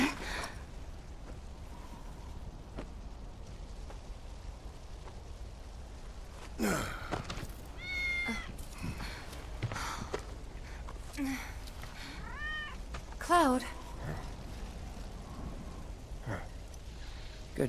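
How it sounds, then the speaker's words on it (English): A cat in Final Fantasy VII Remake gives a few short, rising meows and mews, one brief then a louder pair near the end, over quiet ambient background with a short spoken word and breaths. "Good kitty."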